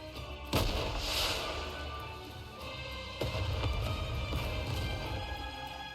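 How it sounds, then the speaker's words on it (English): A video game rocket launcher fires in a snowfield, followed by heavy booming explosions, two strong low-end blasts about three seconds apart over a rumbling, sustained roar. "a shell flies from the rocket launcher. And a resounding explosion"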